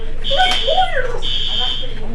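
A school fire alarm blares with a steady, piercing electronic tone, loud and close, cutting out briefly and resuming while children talk and shout over it.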